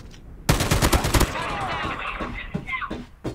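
Rapid bursts of automatic gunfire from Call of Duty Mobile crackle up close at the start, then give way to game effects and voices talking over the match.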